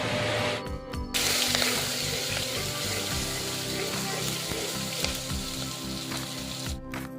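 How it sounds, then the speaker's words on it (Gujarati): Boiled pasta hits hot oil for tempering, giving a steady, dense sizzle that runs throughout at moderate loudness, with faint kitchen clatter and brief interruptions near the start and end. "હમણાં વઘાર દેવા"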